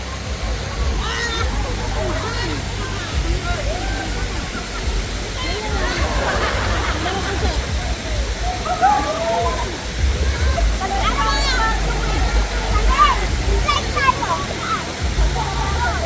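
Steady rushing water fills the whole scene, a constant roar like a small waterfall, with people calling and talking over it.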